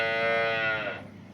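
A black cow on a Banaskantha dairy farm gives one long, loud, close moo with a clear harmonic tone that rises slightly and then trails off, with no voices.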